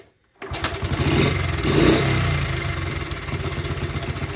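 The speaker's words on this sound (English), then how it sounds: "let me start it up for you" A Honda CT70 motorcycle with a new ignition switch starts after a brief silence, then settles into a steady, close, loud idle with a slightly uneven pulsing beat.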